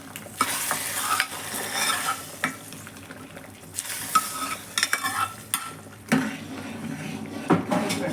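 Sharp sizzling bursts as hot oil tempering hits radish sambar, mixed with repeated stirring scrapes and clinks of a spoon against a pot, loud and close.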